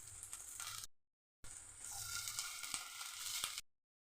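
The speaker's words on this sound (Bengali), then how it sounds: "রসুন দিয়ে দিলাম। আমি ভালো করে সামান্য একটু ভেজে নেবো।" Garlic frying in a pan for Bengali prawn dumplings, giving a steady close crackling sizzle with a few faint clicks, broken by a short silent gap partway through.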